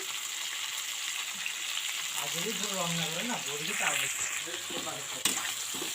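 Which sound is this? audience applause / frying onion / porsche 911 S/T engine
frying onion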